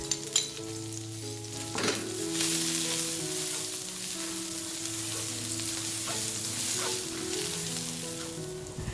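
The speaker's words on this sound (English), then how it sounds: "Then add the spring onion stalks, and the garlic and saute until fragrant." Spring onion stalks and garlic sautéing in oil in a wok, a constant moderate sizzle with a few sharp clanks of a utensil, over background music and no talking.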